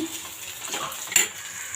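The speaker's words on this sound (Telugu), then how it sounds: "ఉప్పు వేసుకుని ఒకసారి బాగా కలిపేసుకుందాము" Onions and tomatoes with salt being stirred in a frying pan: a soft, steady sizzle with a few scraping stir strokes and a brief utensil clink, close and moderately quiet.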